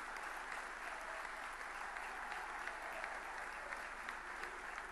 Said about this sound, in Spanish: Un fuerte aplauso para todos ellos, por favor.